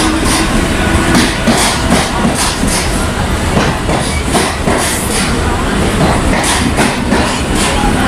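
A Mumbai suburban local train runs between Thane and CST with a loud, continuous rumble and rhythmic clickety-clack of wheels on the rails, filling the carriage steadily throughout.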